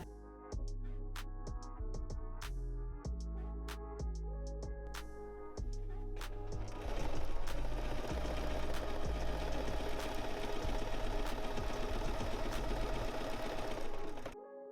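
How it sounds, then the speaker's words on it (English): A sewing machine zigzag-stitches swimsuit fabric over a hole in a halter swimsuit, starting with short bursts and then running steadily and loud, with no talking. "Sew it with a zigzag stitch as we have, and just sew it to the hole in particular."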